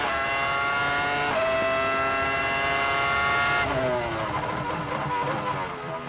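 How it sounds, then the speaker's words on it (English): Formula 1 cars at the 2000 Spanish Grand Prix scream past in a continuous high-pitched engine whine, a pitch shift marking a car passing close by, with the engine note holding loud throughout. "The magnificent Ralf Schumacher, who again, as he did on his first set of tyres, locks up the left front"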